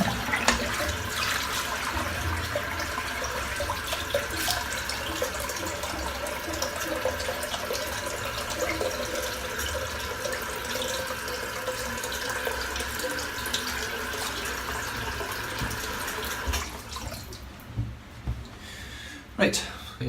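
Tap water running into a sink, a steady splashing flow for most of the stretch before it cuts off, with some talk over it near the end.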